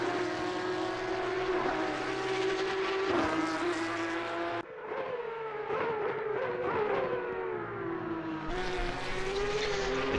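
A Porsche Cup race car engine in Assetto Corsa Competizione, racing at Imola, wails continuously with rising and falling revs through gear changes and one sharp downshift, loud and close with no talk over it.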